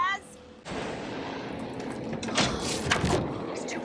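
Gunfire in the video game Alan Wake 2: a burst of loud, sharp shots over a dense rumbling combat background, with a voice speaking under it.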